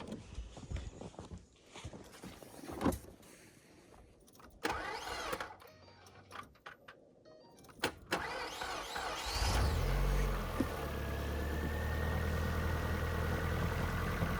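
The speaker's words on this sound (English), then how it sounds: "Gotta move the car so I can plow right here." A car is started and left running as it is moved at a snowy Yukon cabin, preceded by clunks and thumps, then a steady engine hum continuing through the second half.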